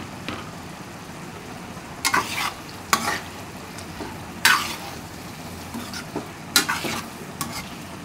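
Boiled eggs stirred into curry frying in a pan with potatoes, salt, turmeric and chili, a steady sizzle broken by several sharp scraping stirs of the spoon against the pan.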